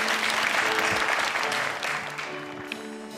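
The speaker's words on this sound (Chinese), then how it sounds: "掌声先鼓励一下。" A studio audience at a Mother's Day variety show applauds before a song: continuous, loud, dense clapping that eases slightly toward the end, with faint musical tones underneath.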